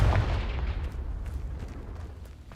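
In Hogwarts Legacy, a Confringo fire spell bursts with a heavy, booming explosion that rolls off into a fading rumble.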